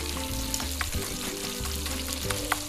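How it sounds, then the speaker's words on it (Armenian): Marinated fish fries in oil with a steady, dense sizzle and crackle. Occasional small pops and a low hum run underneath, with no voices. "Տապակվում է ձեթի մեջ ամենված ձուկը"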